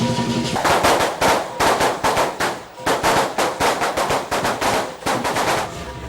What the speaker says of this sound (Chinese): 鞭炮声和锣鼓声震耳欲聋